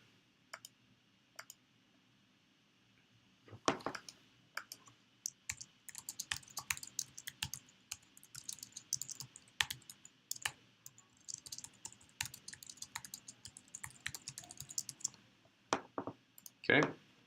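Fingers type text on a computer keyboard, starting with a few isolated clicks and then settling into steady bursts of light, close, irregular key taps.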